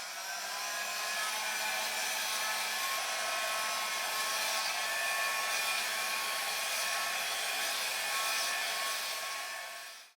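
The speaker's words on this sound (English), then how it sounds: "take my blow dryer and create some beautiful wispy blue and white clouds" A handheld blow dryer blowing over wet blue and white acrylic paint on a canvas, a steady close-up whir that holds constant for about ten seconds and then cuts off.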